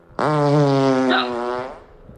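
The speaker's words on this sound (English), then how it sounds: "Whose fart is it?" A loud, close fart sound effect: one long buzzy, wavering blast of about a second and a half that slowly fades out, heard alone without talking.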